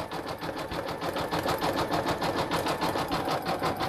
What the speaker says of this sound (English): it's doing all the steps that it needs to do to get that satin stitch prepped and put down